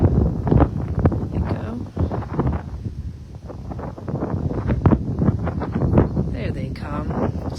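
Wind buffets a microphone outdoors at Sherburne National Wildlife Refuge during crane migration, gusty low rumbling that swells and dips under a person talking.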